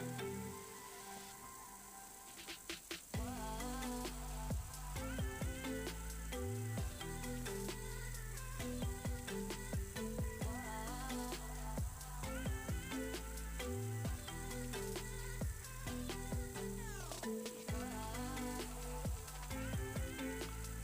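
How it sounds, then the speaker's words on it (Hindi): Chopped onion frying in a pan for dinner gives a steady sizzle throughout, with music playing over it and occasional stirring and clatter. The level stays even and close. "यहाँ पे मैंने प्याज रख दिया था फ्राई होने के लिए"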